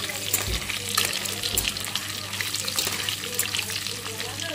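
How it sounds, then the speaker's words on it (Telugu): Fish frying in hot oil gives a dense, continuous sizzle and crackle, close and fairly loud, steady throughout with occasional low bumps from stirring. "చేపలు అయితే బాగా ఫ్రై చేసుకున్నాం."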